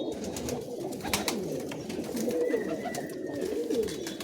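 Giribaz pigeons at a home loft give soft, low cooing amid close rustling and scattered tapping sounds.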